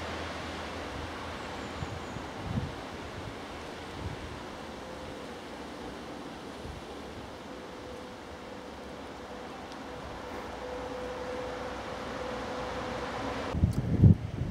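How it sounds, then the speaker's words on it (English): Steady wind blows across open countryside on a grey, damp day on a walking route near Battle, a broad rushing noise with occasional buffeting gusts and a louder burst near the end. "Wind's picking up now."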